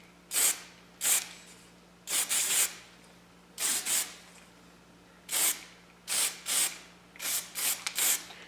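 An aerosol can sprays primer onto a Tusk rack on a KLX 300 motorcycle in a series of short hissing bursts, some single and some doubled, with brief pauses between, close and clear.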